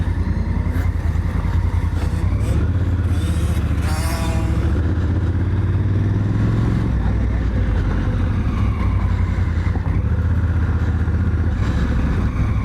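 A Honda Africa Twin, a big adventure motorcycle, ridden on a motocross track at night, its engine droning loud and steady throughout with rising and falling revs and rough clatter from the ride.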